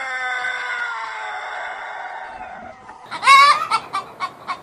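A chicken gives a long drawn-out squawking call, then a quick run of sharp clucks, close and clear with no talking.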